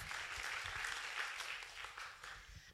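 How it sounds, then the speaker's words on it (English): Faint audience applause fills a community arts hall before a youth music performance, a soft, continuous patter of many hands heard at a distance. "And you even get an applause."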